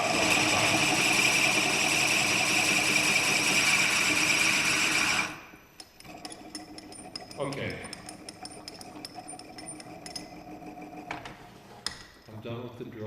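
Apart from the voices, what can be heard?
drilling wood for a honey pot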